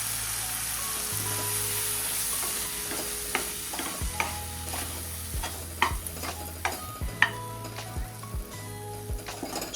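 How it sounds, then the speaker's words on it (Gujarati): A spoon stirs drumstick curry with masala and gram flour in a sizzling pan, with repeated scraping strokes and clinks against the pot over a steady frying crackle. "મસાલા સાથે મિક્સ કરી લેશું।"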